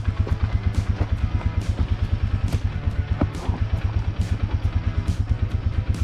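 A four-wheeler ATV engine idles on a steep mountain incline, a close, loud, rough chugging with a fast even pulse and faint rattles over the top, no voices.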